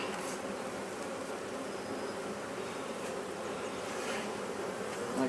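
Honey bees buzz around an open hive during a spring inspection, a dense steady hum of many bees close by with no talk.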